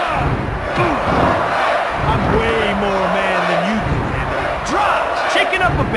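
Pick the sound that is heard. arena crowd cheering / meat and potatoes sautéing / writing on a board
arena crowd cheering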